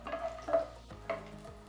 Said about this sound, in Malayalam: അതിലേക്കൊരു 10 അല്ലി വെളുത്തുള്ളി ചേർത്ത് കൊടുക്കുക. മീഡിയം ഫ്ലെയിമിലിട്ട് വേണം ഇതൊന്ന് ഇളക്കി വഴറ്റിയെടുക്കാൻ.